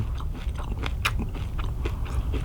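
Crisp bites into a crunchy Korean perilla seed gangjeong, a traditional sweet puffed snack, giving close, repeated crackling crunches and chewing noises with no talking.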